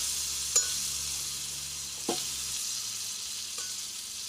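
Pancakes sizzle on a hot griddle in a steady, close frying hiss, broken by a few faint clicks.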